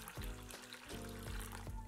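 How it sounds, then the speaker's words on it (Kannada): Water pours into a bowl of mixed pulses, a brief close trickle and splash repeating in a few uneven bursts. "ನೀರು ಹಾಕೊಳ್ಳೋಣ."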